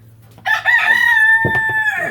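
A rooster crows once, loud and close, a long sustained call lasting over a second with a steady low hum underneath.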